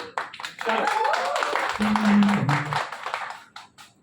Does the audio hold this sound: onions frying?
no